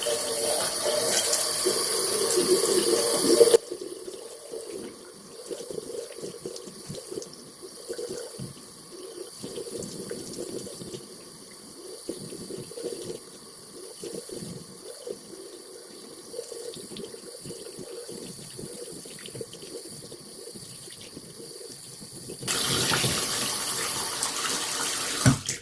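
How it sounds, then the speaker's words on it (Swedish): Water sprays from a shower head over potted garden plants to rinse off lice, a continuous hiss of running water that starts loud, softens to a quieter splatter for most of the time, then swells again near the end. "Första hjälpen jag gav mina plantor var att duscha dem och få bort lössen"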